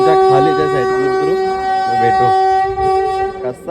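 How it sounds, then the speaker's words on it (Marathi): A train at a railway station blares a loud, sustained horn at close range for several seconds, over a rumbling clatter of the passing cars. "कसा आवाज आहे गाडीचा."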